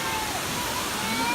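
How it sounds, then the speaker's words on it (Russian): A waterfall seen at a children's camp gives a continuous rushing, splashing roar of falling water, steady and fairly close, with a voice speaking over it. "смотрите, на водопад"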